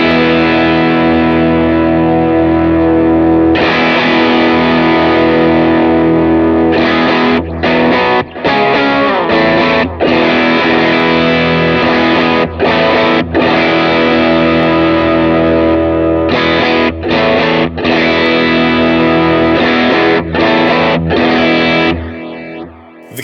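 Electric guitar run through a King of Tone overdrive model on a Line 6 Helix, loud sustained driven chords with rhythmic strummed bursts and short gaps, played alone without talk.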